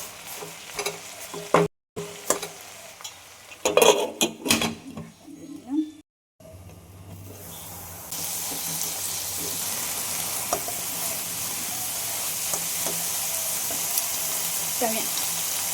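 Red amaranth greens with chopped garlic and a pinch of salt stir-fry in a pan, giving a steady close sizzle with scraping stirs; early on the sound is choppy and broken by brief silences, then a louder continuous frying hiss holds.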